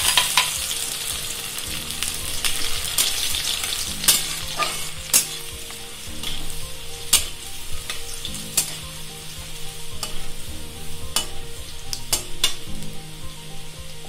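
Chopped garlic frying in hot oil in a pan for chili chicken, a loud continuous sizzle broken by repeated sharp scrapes and knocks of a spatula stirring, no voices.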